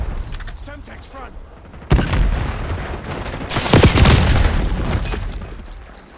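Semtex grenade blast in Black Ops 6, a sudden loud boom near the two-second mark followed by sustained gunfire and a second heavy explosive burst, with a game voice heard briefly before.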